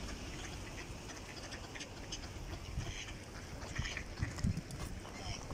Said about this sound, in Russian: Представляешь, банда, банда уток.